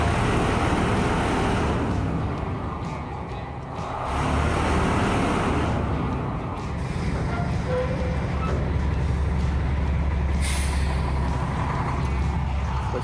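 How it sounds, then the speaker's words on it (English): A dump truck's box vibrator runs with a steady mechanical rumble, close and loud and continuous throughout, holding a fairly even level with a brief dip partway through and no voices. "Here comes the box vibrator."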